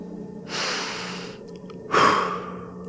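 A long deep breath: one drawn-out inhale followed by a stronger, louder exhale, close and breathy, with no talk.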